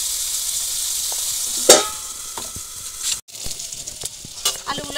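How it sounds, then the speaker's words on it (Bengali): Potatoes fry in hot oil in a partly covered pan with a steady close sizzle, broken by a sharp burst of spitting and the brief scrape of stirring, with no talking. "অল্প একটু ঢাকা দিয়ে দিয়ে ভাজবো"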